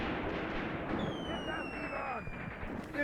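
Gunfire aimed at a tank in the war game Graviteam Tactics, a dense, continuous rumble of distant shots and blasts with thin whistling tones overhead.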